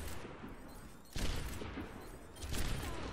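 Bursts of rapid gunfire crackle in a game, one burst around the middle and another near the end, with no talking.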